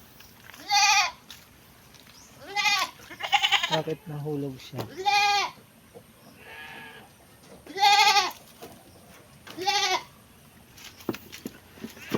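Several Anglo-Nubian goats, including a young buckling, give loud nasal bleats in repeated bursts, some near and some overlapping, while people talk in Filipino between and over the calls.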